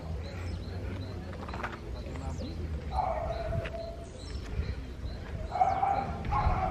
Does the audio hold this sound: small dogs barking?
yes